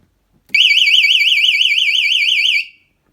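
Electric bicycle anti-theft alarm, on a DIY electric chopper, blaring a loud, close warbling electronic siren for about two seconds before cutting off abruptly, with no other sound around it.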